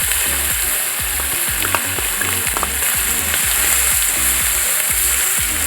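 Spices and turmeric fry in hot oil in a pan while making a taro pickle: a constant close sizzle with rhythmic scraping from repeated stirring, loud and with no talking.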